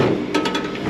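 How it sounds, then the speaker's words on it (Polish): Three quick, sharp thuds of coffee beans pounded in a stone mortar on a street in Mardin, Turkey, close and crisp, over a steady hum of background noise. "To jest dźwięk tłoków w tej kawie."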